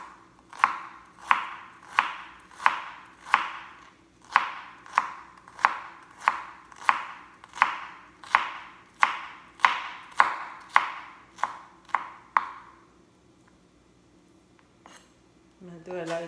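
A regular white onion is minced finely with a knife, giving a fast, even run of sharp, close chopping strokes that stops abruptly near the end, followed by a faint voice.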